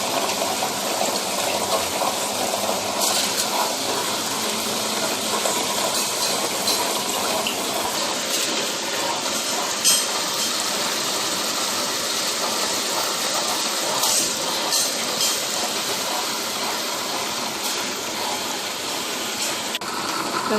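A wet grinder churns soaked rice with water into idli batter, a steady watery sloshing and gushing that runs continuously and fairly loud throughout, with no talking.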